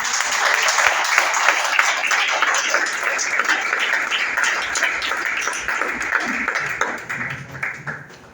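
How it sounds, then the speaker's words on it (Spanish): Church congregation at a Sunday school sermon applauding the Lord, a full, steady round of clapping lasting several seconds before tapering off near the end. "Denle un aplauso al Señor"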